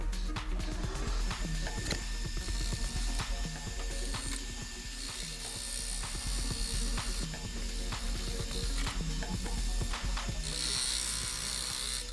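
Skew chisel cutting a tulip poplar bowl on a woodturning lathe, giving a steady run of rapid ticking, scraping clicks with no talk, close and fairly faint throughout.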